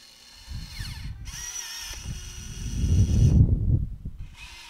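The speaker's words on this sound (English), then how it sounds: "Definitely my new weed puller for the yard." A drill-powered Ripper weed puller twists into yard grass, its motor whirring in short bursts that rise into a louder grinding rip as the clump tears loose, close up.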